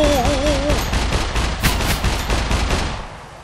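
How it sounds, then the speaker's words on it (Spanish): Rapid bursts of gunfire in the video game SCUM crackle in quick succession, loud and close, with a brief electronic tone at the start. "Estaba oyendo los tiros"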